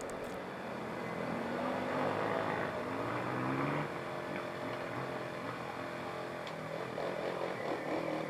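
A Husaberg prototype enduro motorcycle engine runs steadily before the start of a German enduro championship special stage in 2000, a continuous, moderately distant engine drone with no speech over it.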